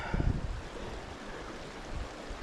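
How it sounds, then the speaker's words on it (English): Water rushes steadily with a broad, noisy churn, and a few low gusty thumps come early on. "Water seems to be running at a good clip."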